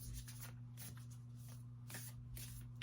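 Oracle cards shuffled close up and quietly, a run of soft papery riffles and slides repeating in quick bursts over a low steady hum.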